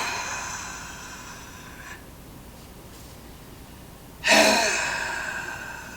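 A sharp, forceful exhale marks a karate pressing block, a hard burst of breath near the end that follows a long, quieter hiss of breathing close to the mic.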